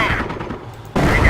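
Mortar and battlefield fire in the World War II strategy game Company of Heroes during the Normandy invasion at Cherbourg, a dense rumbling burst of explosions that dips briefly and then surges back loud, with no talking.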